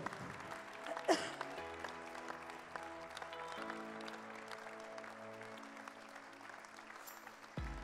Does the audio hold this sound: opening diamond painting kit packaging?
no